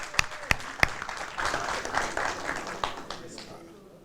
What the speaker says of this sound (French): Si on peut l'acclamer, s'il vous plaît, pour le dire.